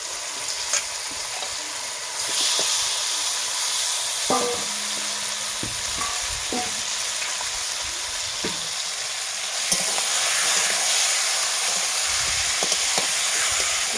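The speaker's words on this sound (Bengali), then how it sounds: "এখন আমি নুন, হলুদ, সরষার তেল মেখে রেখেছিলাম, দিয়ে দেবো আমি সে মাংসটা" Meat coated in salt, turmeric and mustard oil hits a pan of softened tomato and sets off a loud, steady sizzle, with intermittent scraping and clanking of stirring, no voices.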